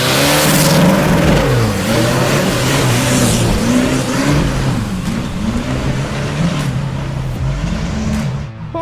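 A Land Rover Discovery 3 off-road vehicle revs hard through a muddy corner, its loud engine note rising and falling continuously up close with no voices over it.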